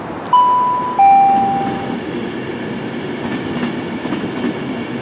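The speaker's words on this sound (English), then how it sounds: "So you're going to join us now at Stafford railway station." Steady rumble of a train at Stafford railway station, with two bright electronic chime tones at the start and a continuous mechanical hum throughout.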